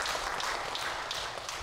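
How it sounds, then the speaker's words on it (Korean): A church congregation applauds after a sermon, giving brief, moderately loud clapping from a room full of people. "박수 한번 칠게요"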